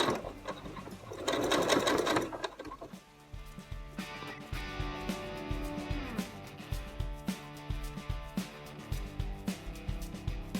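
A sewing machine stitches a t-shirt neckline in quick rhythmic bursts of needle clatter, with a brief whirring pause near the start before steady stitching resumes, fairly close and quiet.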